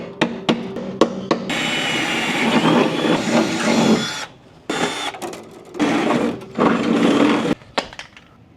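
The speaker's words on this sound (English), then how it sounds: "center punched them, and drilled them out" Loud whining drill bursts through the body metal of a BMW E30 M3 in several runs, separated by short clicks and pauses, close and harsh.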